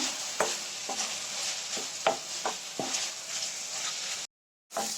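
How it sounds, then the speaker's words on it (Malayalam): Chopped onions sautéing in a pan for a restaurant-style beef curry, a steady close sizzle broken by spatula scrapes and knocks as they are stirred, with a brief silent gap near the end. "നമ്മുടെ സവോള ഇട്ട് നന്നായിട്ടൊന്ന് വഴന്ന് വരട്ടെ"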